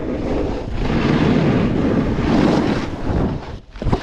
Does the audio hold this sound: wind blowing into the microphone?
yes